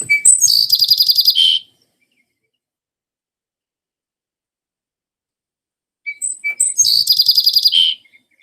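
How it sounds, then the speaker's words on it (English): Song sparrow song played from a recording: a crisp phrase opening with a few sharp notes and rolling into a fast trill, heard twice with silence in between and no talk. "Song sparrow again."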